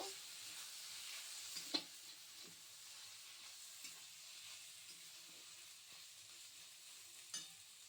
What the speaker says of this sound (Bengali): পনিরটা দিয়ে একটু ভালো করে কষিয়ে নেব